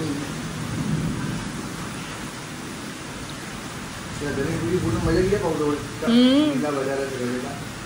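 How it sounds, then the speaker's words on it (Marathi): Steady rain hisses in the background throughout, with a low rumble, while someone talks over it in the second half. "पाऊस लेट चालू आहे."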